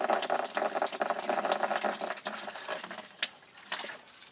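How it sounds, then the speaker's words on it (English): Water gushes, heavily aerated and spluttering with air bubbles, from an underfloor heating pipe into a bucket during installation, a continuous close splashing and gurgling that eases slightly toward the end. "See, the water's coming out."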